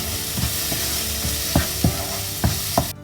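An egg biryani masala mixture of chilli powder, garam masala, coriander powder and salt sizzles steadily in a pan, broken by several soft scraping stirs, up close and with no talking.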